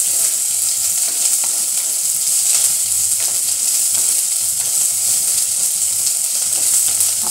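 Chillies sautéing in hot oil for a spicy Tamil eggplant and potato kara kuzhambu, giving a loud, constant close sizzle with faint stirring and no voices.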